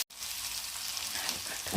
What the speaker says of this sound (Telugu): ఈ అల్లం వెల్లుల్లి పేస్ట్ వేగేంత వరకు కలపాలండి.